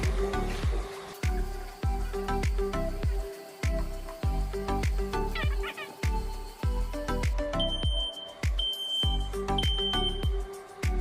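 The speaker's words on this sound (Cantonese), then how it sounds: "即刻咧就做一個真火嘅測試，去測試下咧呢啲獨立火警警報器實際嘅使用情況啦" Several standalone smoke alarms go off together during a real-fire test, sounding as loud, rapid, overlapping electronic beeps in a steady repeating rhythm, with some higher shrill tones joining partway through.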